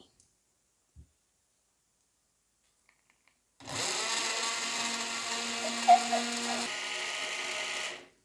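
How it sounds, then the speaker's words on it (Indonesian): A blender whirs loudly and steadily for several seconds while blending a Jamaican guava smoothie after a quiet pause, with a brief pitch shift near the end before it cuts off. "Lalu kita tutup dan kita akan blender lagi"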